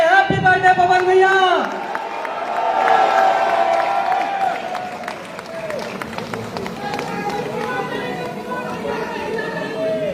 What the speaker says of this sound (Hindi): तालियां बजाइए, हैप्पी बर्थडे पवन भैया